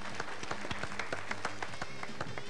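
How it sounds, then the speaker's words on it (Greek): Applause for the contestants on a Greek game show, a steady patter of many hands clapping in a studio crowd, moderately loud and continuous. "Αυτό ήταν χειροκρότημα τώρα για τα παιδιά"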